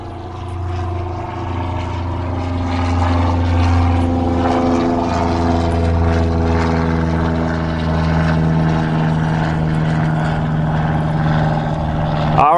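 Propeller aircraft near an airport, heard outdoors beside a Permobil F5 power chair, a loud steady engine drone with layered humming tones that holds for the whole stretch and swells slightly midway.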